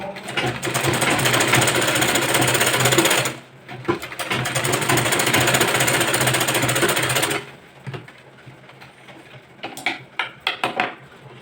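A sewing machine stitches a boat neck blouse in two long, loud, continuous runs, followed by light clicks and handling noises as the fabric is adjusted.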